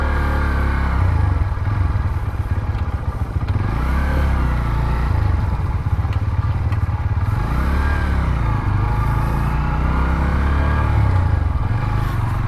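A Bajaj Pulsar N125 motorcycle engine runs steadily nearby, a loud, continuous mid-pitched hum with slight rises in revs and some mechanical clatter, no voices over it.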